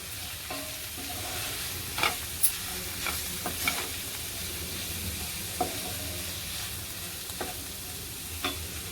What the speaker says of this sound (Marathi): आता हळद घालायची आहे मसाला घालायचा आहे मिक्स करते चांगलं